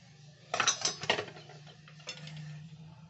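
A stuffed semolina kulcha is lifted out of a pan, with a short burst of light metallic clinks and scrapes from a utensil against the pan, then a quieter faint scrape and a low background hum.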